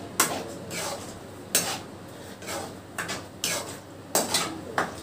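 Snail gravy stirred in a cooking pot, the spoon clanking against the metal sides in several sharp bursts separated by brief scraping stirs, close and clear with no voices.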